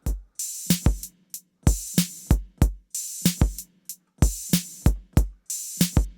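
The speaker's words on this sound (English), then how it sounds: "if we solo out just the drums for the main section" The soloed drums from a song play a steady, looping beat of kick, snare and hi-hat hits with a crisp, even groove and no voices.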